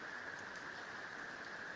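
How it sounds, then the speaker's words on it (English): Heavy rain falls in a steady, dense hiss, even and continuous with no voices over it. "it's starting to rain really loud again."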